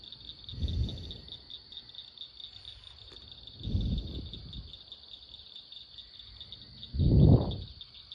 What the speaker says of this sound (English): Y'all can probably hear the frogs and hear everything.